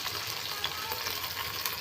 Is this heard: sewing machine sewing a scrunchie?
no